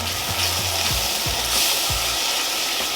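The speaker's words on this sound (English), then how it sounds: "and we're just gonna stir" Cream stirred into a thickening spinach artichoke dip in a pan, loud continuous sizzle with rhythmic scraping strokes of a spoon repeating about every third of a second.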